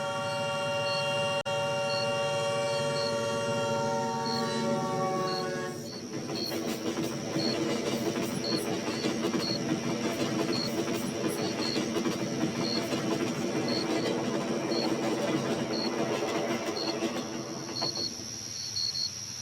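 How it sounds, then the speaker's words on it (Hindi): A train horn sounds a sustained tone at night, then an approaching train builds into a steady broadband rumble and hiss with faint rhythmic clicks of the wheels, lasting a long while with no talking. "तभी दूर से एक हॉर्न सुनाई देता है। लगता है आज रात का आखिरी ट्रेन आ रहा है।"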